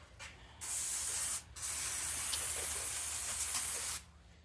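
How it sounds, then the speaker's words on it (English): Brake cleaner sprayed from an aerosol can onto Subaru 2.5 SOHC clutch parts, a brief hiss followed by a long steady spray lasting several seconds, close and alone. "Spray to clean her off with brake clean."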